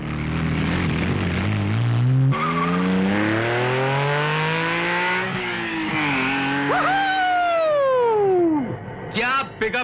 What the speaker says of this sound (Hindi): क्या पिकअप है गाड़ी का